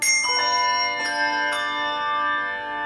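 Handbells struck during a bell class, three distinct strikes about half a second apart, each ringing with bright sustained overtones that overlap and slowly decay.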